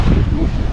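Gusty wind buffeting the microphone, a loud low rumble that fluctuates steadily throughout.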